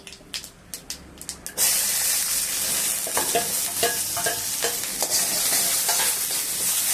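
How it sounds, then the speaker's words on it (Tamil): Lentils poured over fried onions hit a hot pan with a sudden loud sizzle, followed by repeated scraping strokes of stirring over the continuous frying hiss, after a few light taps at the start. "இந்த வெங்காயம் வதக்கி இதில் பருப்பு ஊற்றி நல்லா கொஞ்ச நேரம் கலரிக்கிட்டே இருக்கணும், அடி பிடிக்காம"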